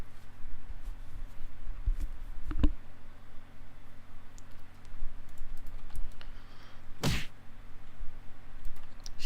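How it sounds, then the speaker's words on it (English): Keys clatter on a computer keyboard in soft, irregular bursts of typing, with a couple of sharper clacks standing out against a quiet background hum, and no one talking. "She's typing."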